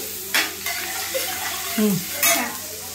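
A spoon scrapes and stirs a pizza topping mixture with chili in a pan, giving a few sharp clinks over a soft sizzle. Brief faint voices can be heard.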